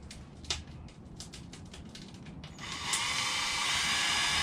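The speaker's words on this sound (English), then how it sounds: "You take the drill." A faint tapping and clicking gives way to a steady, high-pitched drill whine on a horseshoe knife being made, starting midway and running on loudly to the end.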